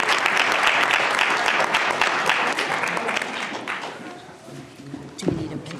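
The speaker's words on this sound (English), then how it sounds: "If we could have another round of applause for our students and our staff for this meeting." An audience at a school board meeting in Troy, Michigan claps in a dense burst of applause that gradually thins out and fades, with a voice and a knock briefly heard near the end.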